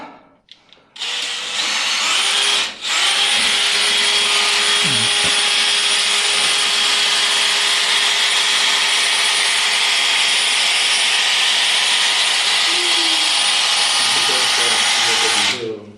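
A drain cleaning machine runs at full power for a long, loud, steady whine that holds nearly unbroken after a brief start-up stutter, close up in a clogged bathtub drain.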